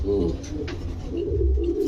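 Several pigeons coo steadily in deep, throaty burbles, close and continuous, with a brief scuffle partway through.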